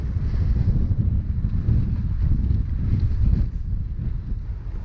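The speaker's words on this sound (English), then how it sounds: "The wind is from my right at the minute." Wind roars and buffets the microphone during a bicycle road ride, a loud continuous low rumble that gusts slightly throughout.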